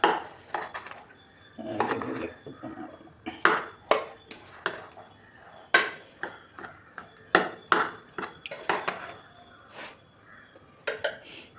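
A spoon scrapes and clanks against a pan in repeated short strokes while roasted broken wheat upma is stirred, the metal knocks loud and close against quiet gaps.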